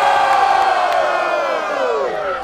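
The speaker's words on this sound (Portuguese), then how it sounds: "Barulho pra quem gostou das rimas de Kate" Crowd at a Portuguese-language rap battle roaring with cheers and shouts, a loud, dense wall of voices that swells and then slowly tapers over a couple of seconds.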